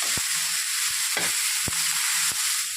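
Roasted gram and mint fry in a pan over a steady hiss of sizzling, with a few sharp spoon scrapes at irregular intervals, close and without talk.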